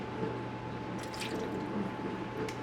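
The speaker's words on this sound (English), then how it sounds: "We're going to do about 2 tablespoons of the apple cider vinegar." Apple cider vinegar is poured in a kitchen, a faint, brief liquid trickle with a few drip-like splashes over a quiet room hum.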